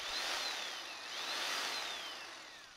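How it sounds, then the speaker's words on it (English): A restored 1930s electric hammer drill runs steadily in hammer-drill mode, a loud, continuous whine with a slowly wavering pitch that lasts the whole stretch, with no talk over it. "Make sure we got it on hammer drill."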